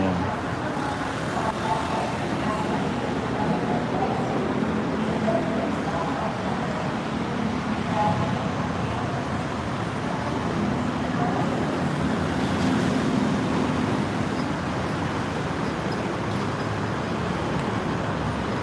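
Steady, dense roar of heavy road traffic on Vibhavadi Rangsit Road passing continuously below a skywalk at Lak Si, Bangkok, loud and unbroken, with engines and tyres blending into a constant wash.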